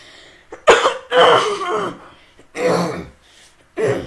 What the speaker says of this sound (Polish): Ale dzisiaj mam kaszel